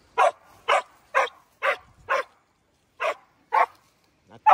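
A dog barks outdoors in a run of sharp, evenly spaced barks, close and fairly loud, with a short pause before a few more, and no talk over them.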